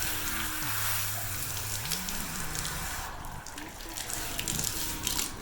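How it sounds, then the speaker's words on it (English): Water runs steadily while shampoo is rinsed from a horse's tail, a continuous hiss of splashing and trickling through the hair, close and fairly loud, with a low voice murmuring faintly beneath at the start. "Making sure every last bit of shampoo is rinsed out."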